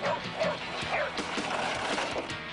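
Sled dogs in a harnessed team bark and yelp amid a constant busy, noisy background of motion, the short barks coming in quick succession.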